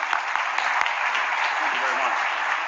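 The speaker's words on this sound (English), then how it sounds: "Let's give him a warm round of applause." A warm round of audience applause at a conference on transforming global finance for education, greeting Gordon Brown as he comes up to speak; dense, steady clapping throughout.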